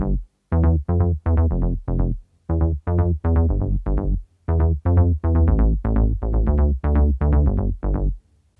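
A deep synth bass plays a choppy pattern of short, punchy notes in groups, with brief gaps between phrases, loud and alone.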